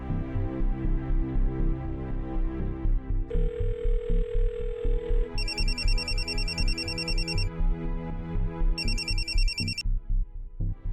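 A telephone ringtone for an incoming call rings in repeated bursts over loud, steady background music in a Marathi TV serial's late-night scene.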